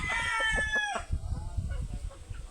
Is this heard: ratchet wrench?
no